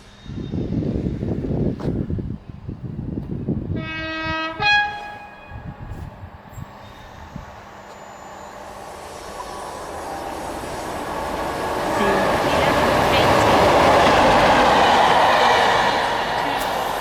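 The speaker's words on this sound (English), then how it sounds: "pulling in here now is the 1122 South Western Railway service to Portsmouth Harbour" A South Western Railway passenger train pulls into Winchester station, its horn sounding in a short steady blast before a rising roar of wheels and engine builds close by; voices are heard early on.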